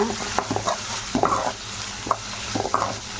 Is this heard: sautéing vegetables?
yes